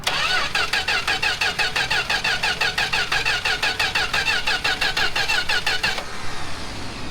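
An old four-door Mopar car engine cranks steadily on the starter with the choke on, a fast, even rhythm of loud repeated whirring strokes that stops abruptly near the end without catching.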